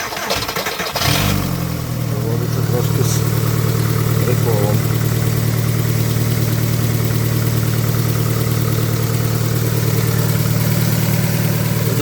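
A VW Golf 4 engine cranks and catches, then settles into a steady, loud idle hum that continues throughout, with someone talking briefly over it.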